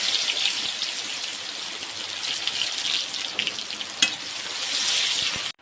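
Chopped onion fries in oil in a home kitchen, a loud, steady hiss and crackle with a few sharper pops, close up and with no voices.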